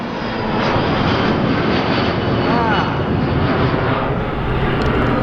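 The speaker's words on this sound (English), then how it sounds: "The planes fly over here." An airplane passes overhead, a loud, continuous broadband engine roar that swells and holds steady for several seconds, dominating the scene with no talk.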